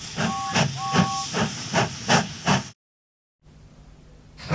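Steam engine Gordon hissing in bursts with a two-tone whistle, rhythmic puffs at first, then a gap of silence before a steady hiss and low rumble return.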